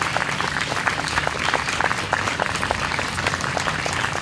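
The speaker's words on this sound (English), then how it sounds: "Please give another round of applause to Kevin." An audience at a youth poetry event applauds, with dense, sustained clapping from a crowd throughout.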